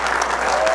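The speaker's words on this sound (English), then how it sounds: "I would like you all to give yourselves a big round of applause for being here tonight." Brief burst of steady crowd applause at the Gail Rich Awards 2012 as the audience claps for themselves, dense and even throughout with a low hum beneath.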